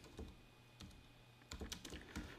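A computer keyboard clicks as a terminal command is typed. Quiet, irregular keystrokes come close-up, with a short flurry of taps near the end.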